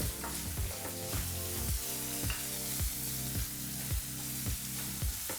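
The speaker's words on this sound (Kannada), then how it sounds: "ಭಾಳ ಚಿಕ್ಕದಾಗಿ ಕಟ್ ಮಾಡಿದಂಥ ಒಂದು ಈರುಳ್ಳಿನ ಹಾಕಿ ಎರಡು ನಿಮಿಷಗಳ ಕಾಲ ಈರುಳ್ಳಿನ ಮೀಡಿಯಂ ಫ್ಲೇಮ್ನಲ್ಲೇ ಫ್ರೈ ಮಾಡ್ಕೋಬೇಕಾಗತ್ತೆ" Very finely chopped onion frying on a medium flame for a toor dal and brinjal gravy gives a steady, close sizzle with a faintly pulsing, regular undertone and no voices.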